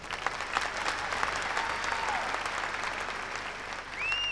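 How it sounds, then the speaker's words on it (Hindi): A concert audience at a 1998 show in London claps in a dense, sustained round of applause that stays steady from start to finish, with a faint whistle near the end. "आपके लिए इधर जोरदार ताली बजा दीजिए"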